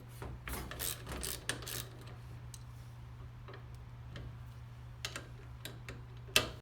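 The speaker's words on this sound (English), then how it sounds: "To remove the bolt, you will need a 7/16 wrench or socket." A bolt being loosened with a 7/16 wrench or socket, giving quiet ratcheting clicks in irregular bursts over a low steady hum, close and faint, with no talking.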